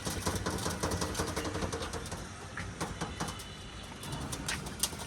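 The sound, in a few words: Aliwale running pigeons cooing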